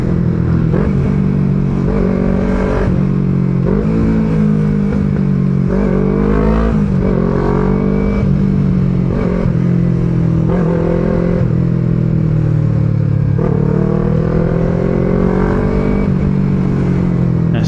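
A Yamaha R25 motorcycle rides through congested morning traffic in Puchong, its engine note droning continuously and rising and falling in pitch with throttle changes, close and steady with road clatter and no speech.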